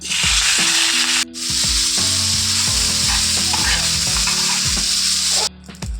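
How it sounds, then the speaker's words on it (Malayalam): Crushed dried chempalli fish sizzles loudly in hot oil in a wok, a dense, steady frying hiss that runs throughout with only brief dips. "ചതച്ച് വെച്ച ചെമ്പല്ലി നമ്മൾ ചീനച്ചട്ടിയിലേക്ക് ഇട്ട് കൊടുക്കുകയും വറുക്കാൻ."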